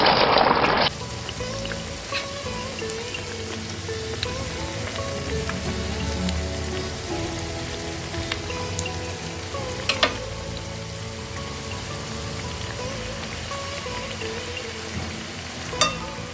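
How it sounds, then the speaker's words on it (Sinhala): Potato pieces fry in oil over low heat in a pot, giving a steady, close crackling sizzle like light rain with occasional louder pops throughout and no voices. "දැන් අපි මේ ටික අඩු ගින්දරේ හොඳට පැදගමු."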